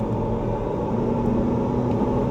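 A Proton X70 AWD accelerates on a clear road, heard from inside the cabin as a steady, loud engine and road rumble with no talk over it.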